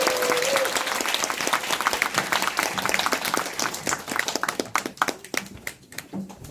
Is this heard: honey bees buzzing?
no